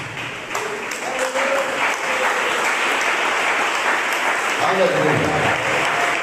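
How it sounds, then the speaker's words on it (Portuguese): A church congregation applauds steadily in a continuous wash of clapping that grows a little louder, with a preacher's voice calling out over it. "Mais forte as palmas, misturado na glória de Deus"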